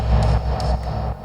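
A gated kick drum punch layer with no automation applied, heard as a dense, sustained low-end thump with rhythmic pulses and a bright transient edge, loud and alone without talk.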